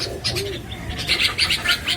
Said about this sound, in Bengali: কবুতরটা আপনার ছেড়ে দেখাচ্ছি খাঁচার ভিতরে।